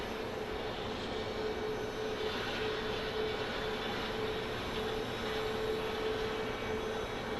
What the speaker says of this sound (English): E-175 coming from Medford. It is American Eagle